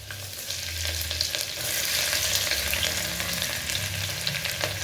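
Ginger and garlic frying in hot oil for veg pulao, a loud continuous sizzle and crackle with stirring clatter, close up and unbroken.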